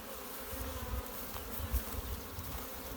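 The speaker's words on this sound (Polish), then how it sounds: "wylewają się pszczoły." Honeybees pour out of a hive in a swarm, giving a constant close buzzing hum with small swells in volume and no voices.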